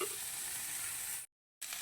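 Cauliflower fries in oil in a pan for a Bengali cauliflower, potato and pea curry, giving a steady close hiss that cuts out briefly and then resumes.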